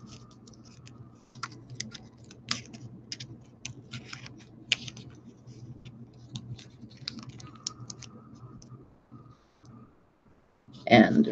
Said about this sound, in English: Now I'm going to go back in, and this time I'm going to wrap the masking tape all over the place.